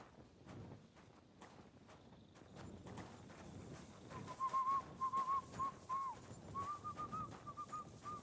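Rhythmic hoof clip-clops of a horse at a steady gait in the video game Kingdom Come: Deliverance II, moderately close, with a thin whistling tone running over the second half.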